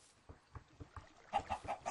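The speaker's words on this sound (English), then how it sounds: "I just heard a chicken lay an egg." Minecraft chicken in a survival game lets out a run of short, evenly spaced clucks, growing a little louder toward the end as it lays an egg, with no talking.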